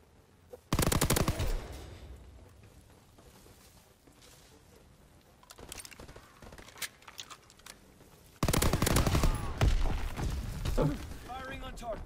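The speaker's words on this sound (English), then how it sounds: "Firing on target." Gunfire in Call of Duty: WWII comes in two loud, sustained bursts of rapid automatic fire, one near the start and one toward the end, with quieter scattered shots and game noise in between.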